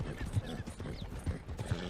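Wild horse in Red Dead Redemption 2 with soft clip-clopping hooves and a faint whinny, quiet and close amid low background game ambience.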